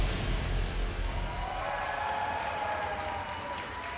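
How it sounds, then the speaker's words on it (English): An esports arena crowd at a League of Legends match roars and applauds in a steady, dense wash of cheering and clapping that fades slightly toward the end. "Crowd always gets loud when the Unicorns of Love are on the Rift."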